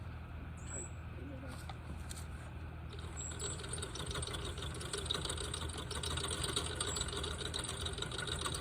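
A plastic yarn ball winder is cranked by hand, producing a steady, continuous mechanical whirring drone that holds even throughout and swells slightly in the second half.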